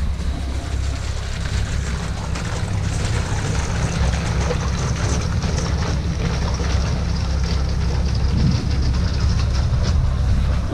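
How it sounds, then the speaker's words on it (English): A narrowboat pushes through ice on the Grand Union Canal, producing a steady low rumbling crunch with a constant engine drone, close and unbroken. "Rich has been breaking the ice with the boat"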